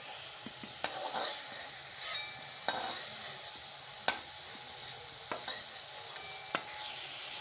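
Prawns fry lightly in oil in a pan, a soft continuous sizzle punctuated by sharp clinks and scrapes of a spatula stirring them, close and fairly quiet with no talking.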